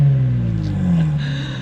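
Infiniti Q60 engine revving up with a steady low rumble, close and loud, holding a sustained drone that climbs slightly in pitch before settling.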